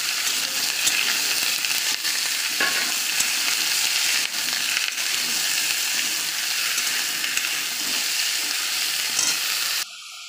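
Bottle gourd pieces fry in a pan with a loud, even hiss that runs almost unbroken, a few soft knocks from stirring, then cuts off abruptly near the end; no voices.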